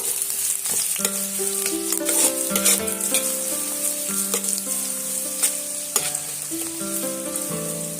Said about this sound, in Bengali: সেটা আমি তেলের মধ্যে অ্যাড করে দিলাম তেলের মধ্যে এক করে দিয়ে এটা বেশ কিছুক্ষণ ধরে লাল লাল করে ভাজা করে নেব